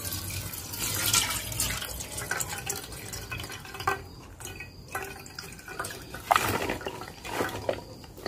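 Running tap water splashes and trickles in a kitchen sink while brinjal is rinsed, a steady close wash with drips and brief louder gushes, no talking.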